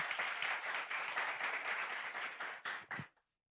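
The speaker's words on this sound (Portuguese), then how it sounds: "Uma salva de palmas, gente." Applause from a Sunday Bible school group, brisk and steady at first, then thinning to a few last claps before silence. Quite faint overall.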